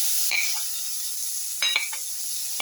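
Tomato pieces drop into a hot pan for a garlic egg tomato casserole, giving a steady hiss of sizzling oil with two brief bursts of spatter and clatter as they land.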